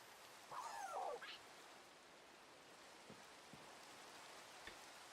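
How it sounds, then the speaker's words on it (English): Steady rain falls in a Minecraft-style video game, a soft continuous hiss with faint scattered drops, joined briefly by a short chirping sound near the start. "It was raining."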